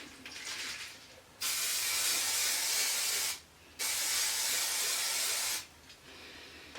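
Aerosol spray can coating a fishing lure before UV resin, two steady bursts of loud hiss lasting about two seconds each, separated by a short pause, with quieter mechanical rattling before and after and no talk.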